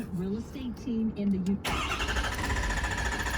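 A 6.7 Powerstroke diesel engine cranks and catches, a burst of loud, dense mechanical noise that follows about a second and a half of a voice speaking over a quieter background.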